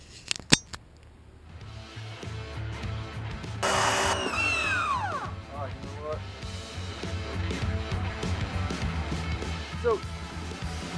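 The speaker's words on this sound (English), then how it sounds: "let's hook up my power washer and give this thing a good scrubbing." A power washer spraying and scrubbing a 1981 Honda GoldWing motorcycle, a steady loud hissing spray with a continuous mechanical whine, shifting in pitch as the nozzle moves, preceded by a few sharp knocks.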